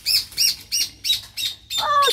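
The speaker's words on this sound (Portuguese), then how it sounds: "Ah, os passarinhos agradecendo aí. João de Barro, feliz da vida." Rufous horneros call loudly and close by in a rhythmic series of six sharp, descending chirps, the last one longer and more ringing, with no talking.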